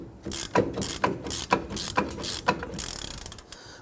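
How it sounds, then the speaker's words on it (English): A ratchet loosening the rear brake caliper bracket bolt on a 2005-2021 Nissan Frontier, a close, steady run of sharp clicking strokes in an even rhythm. "you're going to use the ratchet going upward"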